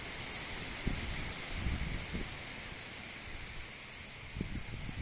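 Strong wind blowing steadily through a storm over an apiary, a broad constant rushing roar with faint rustling bursts and creaks, no talk.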